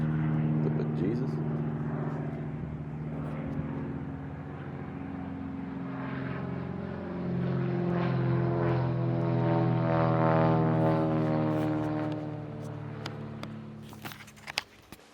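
Small propeller planes' engines drone steadily nearby, swelling louder as two planes take off, with a voice speaking faintly over the hum.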